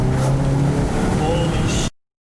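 Full E85 Volkswagen GTI accelerating under boost in third gear, a loud, steady engine drone filling the cabin with no break until an abrupt cutoff near the end.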